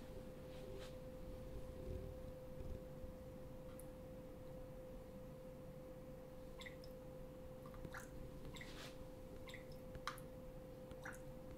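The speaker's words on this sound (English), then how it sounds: "Even makes little water sounds." Soft, sparse water drips and squishy droplet sounds from the Liquipad music app, quiet and scattered over a faint steady hum.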